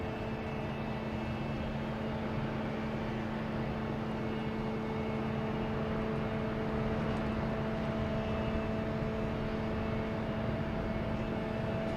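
A Japan Airlines airliner passes at Boston Logan Airport as a steady distant engine drone with a low rumble and faint tonal whine, constant and unchanging throughout, with no voices.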